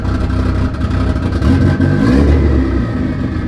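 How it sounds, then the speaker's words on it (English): A Mitsubishi Evo engine with no exhaust fitted, venting straight out of the turbo, revs loudly and harshly up close, with a rough, clattering roar throughout. "Rev it up."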